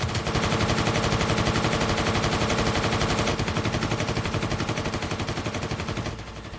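Rapid, sustained automatic gunfire in a zombie film rattles without pause, loud and dense throughout, with a slight drop in intensity near the end.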